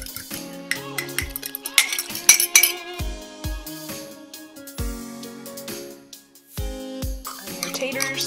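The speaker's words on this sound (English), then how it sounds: "Mix that up a little bit." Liquid smoke, vegetable broth and coconut butter are stirred together in a bowl, with a spoon knocking and clinking against the sides in irregular bursts, ringing tones between strikes and occasional quiet gaps.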